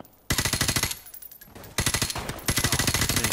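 Automatic gunfire in Call of Duty Modern Warfare Remastered comes in three loud rapid bursts of shots, separated by brief pauses.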